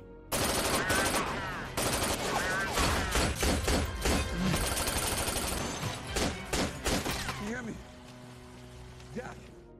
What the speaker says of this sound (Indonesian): baku tembak pun terjadi yang mengakibatkan sejumlah korban